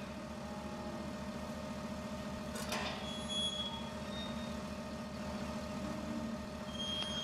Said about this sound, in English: That's because we're driving a tractor backwards.